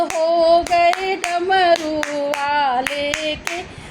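Rhythmic, sharp hand claps keep time, roughly two per second, over a sung devotional Shiva bhajan, with the melody carrying loud and close between the claps.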